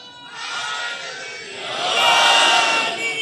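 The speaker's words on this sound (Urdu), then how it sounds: "بالکل آخر سے کوئی نعرہ لگائے تو پتہ چلے." An audience at a religious gathering answers a slogan in unison, a loud swelling chorus of many voices that rises toward the end, heard alone.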